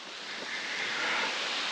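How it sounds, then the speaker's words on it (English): A waterfall in a small canyon, a steady broadband rush of falling water heard from a moderate distance, swelling slightly but holding constant with no voices. "I'm sure you can hear the waterfall."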